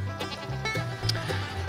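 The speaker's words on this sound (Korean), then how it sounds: "우리 염소들" Goats on a farm bleat repeatedly in overlapping, wavering calls, fairly near and loud, with no talk.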